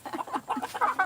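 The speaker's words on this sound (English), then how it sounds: "These chickens is running with big old pieces of bread in their mouth everywhere." Chickens chasing each other with pieces of bread in their beaks give a quick run of soft, close clucks that repeat rapidly over a second.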